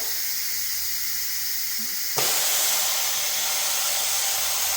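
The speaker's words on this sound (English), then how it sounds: "So I'm just gonna push this to let the steam out." Steam jetting from an Instant Pot's release valve during depressurizing after cooking lamb chops, a loud steady hiss that starts abruptly about halfway through and keeps blowing continuously to the end.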